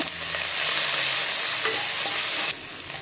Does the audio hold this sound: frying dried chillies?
yes